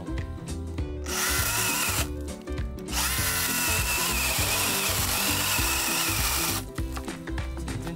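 A freshly sharpened hand saw cutting through wood outdoors, with loud, fast, steady rasping strokes running continuously and close, broken by brief pauses, no talking.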